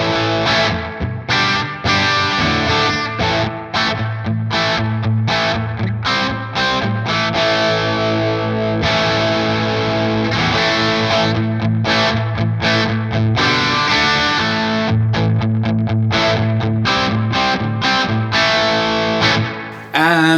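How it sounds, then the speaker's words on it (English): Electric guitar through a cranked REVV Dynamis 7-watt amp, with pure power amp distortion and the reverb turned down, plays loud, thick chords and riffs continuously for about twenty seconds with no talking. "And that's pure power amp distortion, because there isn't anything, like there isn't a gain knob on this thing"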